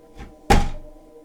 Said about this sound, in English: I threw the door open.